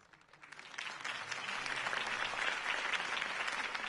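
A crowd bursts into sustained applause that swells quickly and stays dense and steady.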